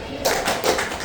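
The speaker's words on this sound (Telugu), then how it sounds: "ఇవన్నీ మీకు ఉపయోగపడతాయంటే క్లాప్స్ కొట్టండి, 2 క్లాప్స్." A group of students in a classroom claps in quick succession, a short burst of bright hand slaps close by with a slightly ragged rhythm as the hands land a little out of time.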